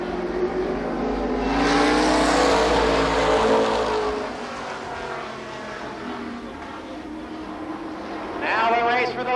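Race cars thunder past at Columbus Motor Speedway in the 1993 Nuckles Memorial, engines swelling loud then easing to a steady drone before another car approaches, with an announcer talking over the racing.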